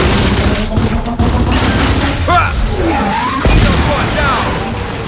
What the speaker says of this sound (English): Gunfire and explosions can destroy objects and rip through structures, resulting in debris flying through the air